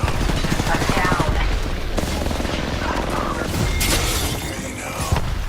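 Dense, loud video game gunfire from several teams at once, with rapid overlapping shots and bursts filling the whole stretch.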